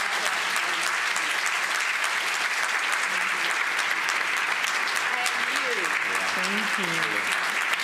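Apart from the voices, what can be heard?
audience applause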